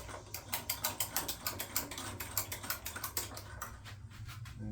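A tilting table on an old drill press being cranked upward, giving a steady run of sharp ratcheting clicks, roughly five per second, close and clear with no talk.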